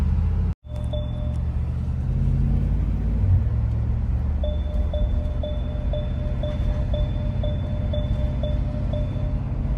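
A Mercedes G-Class 4x4 squared drives with a steady, close low rumble of engine and road noise filling the whole stretch, broken by one brief thump near the start, with a faint repeating electronic beep in the later part.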